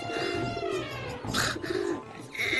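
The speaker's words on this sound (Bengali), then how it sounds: "এত ডাকছে কেন পশু পাখিগুলো?" Pigeons coo in low, throaty calls close by, mixed with sharper bird chirps in a busy, continuous chorus.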